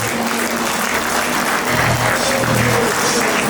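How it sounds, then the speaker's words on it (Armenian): Wedding guests applauding together in a banquet hall, a steady, dense wash of clapping that holds throughout with a faint low musical hum beneath. "ծափարեք եւ շնորհեք իրան։"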